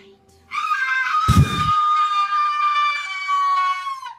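A man in a Grinch costume lets out a long, loud, sustained scream in a yoga class, starting abruptly and holding steady with a brief harsh burst partway through, nearly drowning out everything else.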